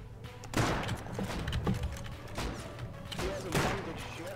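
Gunfire in the video game Rust, a few sharp shots and bursts spaced across the moment, moderately loud over a low background hum with a voice talking in between.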